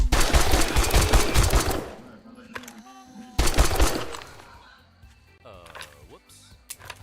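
Rapid automatic gunfire in a video game: two loud, dense bursts of shots separated by a short lull, then quieter game sounds and clatter near the end.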